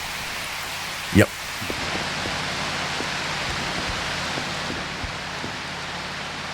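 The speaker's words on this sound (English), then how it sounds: "It looks like it is raining this time." Rain falls steadily in the survival video game Prologue as a broad, constant wash of noise, broken by a short loud swish near the start, a few soft thumps and a brief spoken word.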